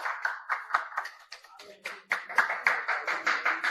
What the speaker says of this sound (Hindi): ताली वगैरह भी बजा लिया करो भाई।